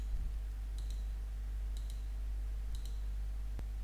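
Computer mouse clicks during HTML editing: four faint, sharp clicks spaced about a second apart over a steady low electrical hum, with no talking.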